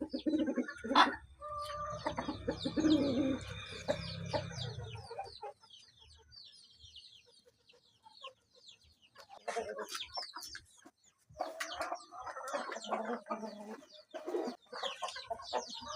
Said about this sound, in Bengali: উন্নত জাতের বাহামা মুরগির মোরগ ক্রয় করতে পারেন